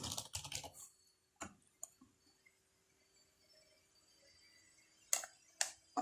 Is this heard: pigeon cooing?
no